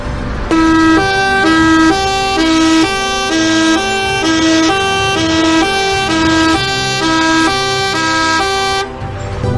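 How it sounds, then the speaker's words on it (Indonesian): Om Telolet style musical horn on an Indonesian bus or truck, playing a loud, repeating multi-tone melody in steady bursts for about nine seconds with no voices. "fenomena Om Telolet Om ala sopir truk dan bis"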